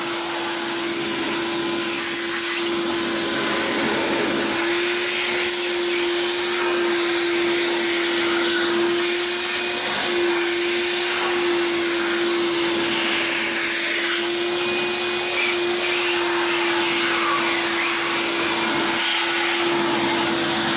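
A Ridgid wet/dry shop vacuum runs steadily and loudly the whole time, a constant motor whine with a droning hum and rushing airflow, no pauses.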